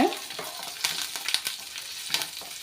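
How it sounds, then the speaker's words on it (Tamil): Sliced onions, curry leaves and garlic sauté in a pan for beetroot rice. A close, crackling sizzle is broken by repeated quick stirring scrapes, with no voices. "பூண்டை மட்டும் நல்லா வதக்கி எடுத்துக்கோங்க"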